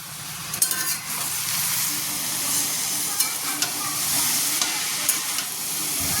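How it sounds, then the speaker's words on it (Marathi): Pumpkin leaves being stir-fried in a pan after the lid comes off, a steady sizzle with scattered clinks and scrapes of the spatula stirring, close and continuous with no talking. "आता आपण भाजीवरचं झाकण काढून भाजी परतून घेतो।"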